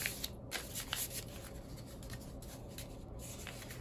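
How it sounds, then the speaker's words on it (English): A sheet of paper is folded in half, hamburger style, for a weaving project: soft close crinkling and rubbing with several brief creasing swipes, quiet and without talk. "fold in half, one, two, three times"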